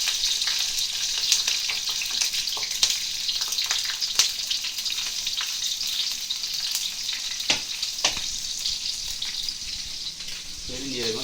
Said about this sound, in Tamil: பச்சை மிளகாயும் வதக்கும் போதே போட்டுக்கிறோம்